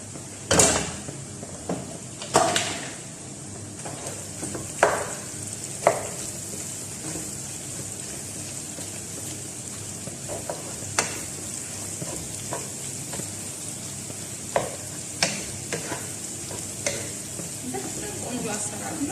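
Sliced onions frying in a pan with steady sizzle, while a spoon stirs and scrapes in irregular knocks and clinks through the whole stretch; no speech.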